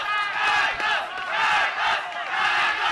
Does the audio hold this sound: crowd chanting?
yes